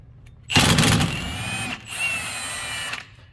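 An impact wrench, a Milwaukee, whirs and hammers loudly for about a second while removing a shock bolt on a 2016-2023 Subaru WRX STI, pauses briefly, then runs again in a second burst before stopping.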